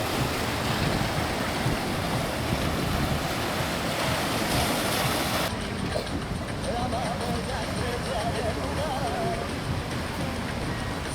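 Waves wash onto a fine sandy beach along the Palma seafront promenade, a dense, continuous rushing surf with wind noise, steady and fairly loud with no voices.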